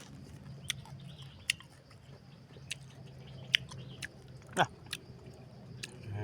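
Red ant eggs being eaten with jaew dipping sauce and sour fruit, heard as faint, close crunchy bites and chewing with scattered sharp clicks over quiet outdoor background.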